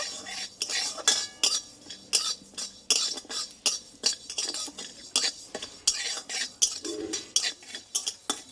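Whole cumin seeds and a cardamom pod dry roasting in an unoiled pan, with a spoon repeatedly scraping and stirring against the metal in quick, close, irregular bursts.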